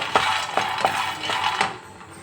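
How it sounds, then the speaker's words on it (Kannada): Peanuts drop into a metal pan in a few quick, rattling bursts. The hard little clinks are close and fairly loud. "ಹಾಗಾಗಿ ನಾನು ಹಾಕ್ಕೊತಾ ಇದ್ದೀನಿ ಶೇಂಗಾ ಬೀಜ ನೋಡಿ."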